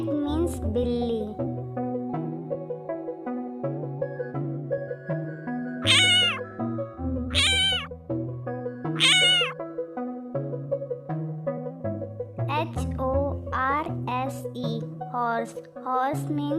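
A cat meows several times, clear and close, with separate drawn-out calls spaced a second or two apart over soft background music.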